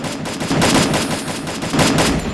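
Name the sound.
gunfire in the video game Free Fire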